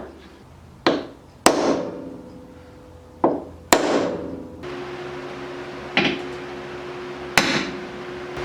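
Sharp metal-on-metal hammer blows on a steel punch during a rock slider install on a Jeep XJ, landing as several separate loud, close impacts with short ringing decays and pauses between them.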